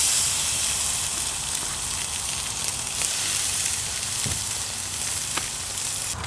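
Largemouth bass fillets fry on a hot griddle, giving a steady, loud, hissing sizzle that runs without pause, with occasional small pops and crackles over the continuous spatter and no talking.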